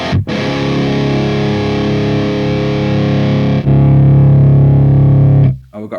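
An electric guitar runs through the Audio Assault Bulldog amp plugin and holds a heavily distorted, sustained chord. Partway through, the tone shifts to a thicker, bass-heavy character as the shift knob moves the mid-range, and then the chord cuts off.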